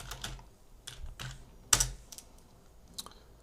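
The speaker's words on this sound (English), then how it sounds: "So we will press Tab and type text." Keys tapped on a computer keyboard during compositing work, a handful of separate close clicks spread unevenly with one sharper press in the middle.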